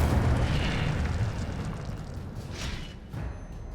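A fire spell cast in a fantasy wizarding video game, a heavy rumbling whoosh of flame that starts loud and slowly fades, with a few softer bursts near the end.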